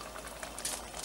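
Paneer butter masala simmering in a covered pan, a faint, steady bubbling hiss with soft popping, quiet and unbroken throughout.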